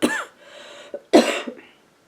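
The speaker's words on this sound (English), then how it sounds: "Sorry, it's impossible not to cough." A woman coughs twice, close and loud, with a brief pause between the two harsh bursts.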